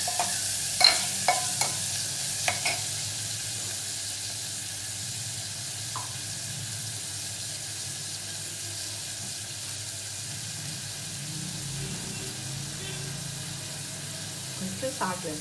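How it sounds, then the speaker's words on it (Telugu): Softened onion and finely chopped tomato fry in a pan, a steady low sizzle throughout, with a few sharp spoon-against-pan taps from stirring at the start. "ఆనియన్ మగ్గింది, ఇప్పుడు ఒకే ఒక టమాటో సన్నగా తరిగి పెట్టుకున్నది వేసాను"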